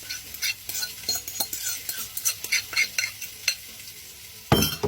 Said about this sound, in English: you want to stir it around, but it's still going to be a little lumpy